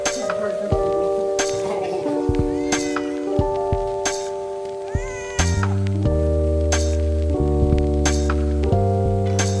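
A cat meows repeatedly and loudly up close, drawn-out tonal cries one after another, with a few sharp clicks in between.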